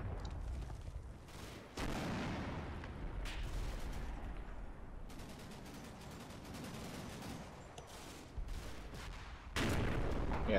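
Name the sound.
60mm mortar fire in video game Combat Mission Final Blitzkrieg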